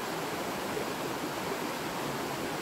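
Cold water bubbles and hisses steadily at a geyser in Washington State, a soft, continuous rushing wash with no other sounds.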